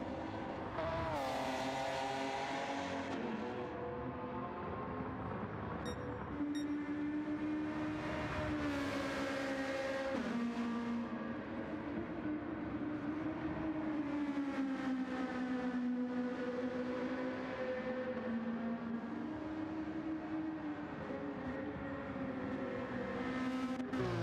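A Porsche 930 race car lapping Road Atlanta during a time-attack event, its engine a loud, continuous note rising and falling through gear changes and corners for the whole stretch, with a brief dip around the middle.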